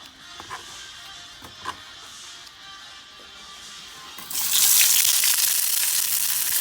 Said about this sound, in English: So the oil is ready. I'm gonna put these onions in there.